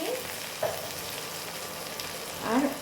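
Ginger paste, cumin and spices sizzle in leftover kofta frying oil for a vegetarian Bengali dish, a steady soft hiss with a couple of brief stirring scrapes, close and fairly quiet.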